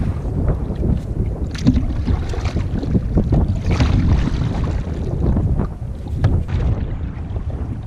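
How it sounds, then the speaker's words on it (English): Wind buffets the microphone during a canoe trip around Traad Point, a steady broadband rush and rumble with gusting swells throughout, close and fairly loud, no voices. "As the day progresses, the wind starts to lift, the weather starts to get a little stronger."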